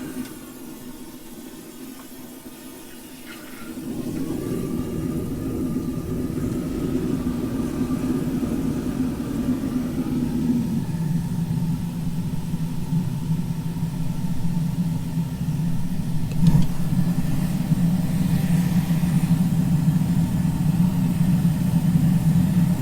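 Gas foundry furnace for casting bronze roaring to life once air and fuel are fed, a quiet hiss that jumps into a loud, steady low rumble and holds for the rest of the clip.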